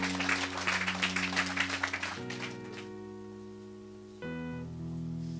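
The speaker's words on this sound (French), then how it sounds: "Clap your hands to Jesus." A church congregation claps its hands in a loud, dense burst for about two seconds, then sustained keyboard chords carry on alone.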